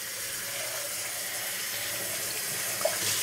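Hot water runs steadily from a kitchen tap as a steady, even hiss with no voices, one small splash or clink near the end.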